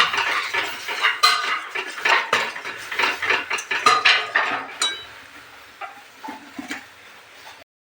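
Pav bhaji being stirred in a pan after the masala is added, with a utensil scraping and clinking against the metal in a steady, busy rhythm that eases off toward the end.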